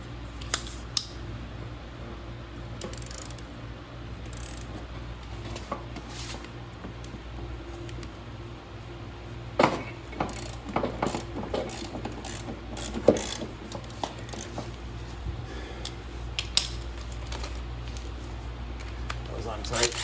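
Metallic clicks, ratcheting and scattered clanks come from a Toro lawn mower deck as its blade is taken off, close and irregular over a steady hum.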